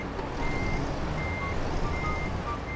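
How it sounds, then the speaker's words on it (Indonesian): Reversing beeps from a Pertamina fuel tanker truck backing up in Euro Truck Simulator 2, a steady repeated electronic beep over a constant low engine rumble with no talk. "Nah, truk Pertamina-nya mundur, coy."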